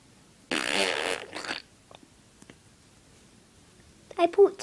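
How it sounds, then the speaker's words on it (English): A loud, sputtering fart lasting about a second rings out near the start, with a shorter burst right after, and a person's voice follows near the end. "Oh, got a fart"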